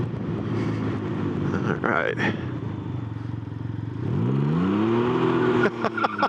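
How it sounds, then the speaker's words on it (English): A Can-Am Ryker three-wheeler accelerates hard in sport mode, its engine note rising and sweeping upward close by, with a short spoken remark over it. "We're gonna do a little acceleration test in sport mode here."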